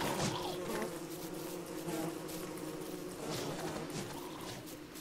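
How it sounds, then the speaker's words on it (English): Bees in the video game Don't Starve produce a continuous buzzing drone, fairly quiet but steady, with wavering pitch as insects hover close by and no speech over it. "Are they killing the bees? I think they're killing the bees."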